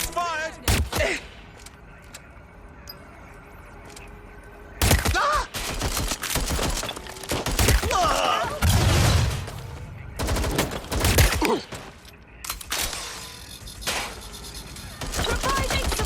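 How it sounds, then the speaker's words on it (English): Gunfire erupts during a Watch Dogs: Legion boss fight against Nigel Cass. Loud, dense bursts of rapid shots come in several clusters, with quieter gaps between them. "Suspect's shooting! Shots fired! Shots fired!"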